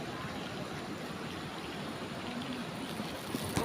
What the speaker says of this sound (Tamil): பிரிட்ஜு ஃபுல்லாகி இவ்வளோ தண்ணி வருது பாருங்க ஃப்ரெண்ட்ஸ்.